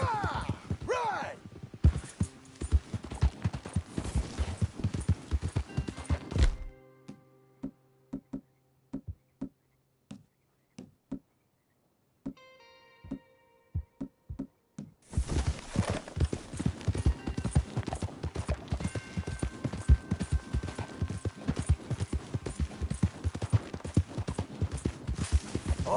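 Horse hooves clip-clop steadily on a trail in the Red Dead Redemption 2 video game, fade to near silence for several seconds, then resume at full volume, with voices talking over parts of it.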